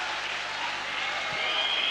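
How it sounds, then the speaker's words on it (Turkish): Crowd cheering in the stands at the 1999 Tofaş versus Fenerbahçe basketball cup final, in the last seconds of play: a steady, loud wall of roaring fans that swells slightly toward the end. "Müthiş bir tezahürat var tribünlerde"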